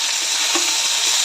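Tomato and onion frying in oil in a kadhai for okra bhaji, a loud, even, continuous sizzle heard up close with one faint stir, no voices.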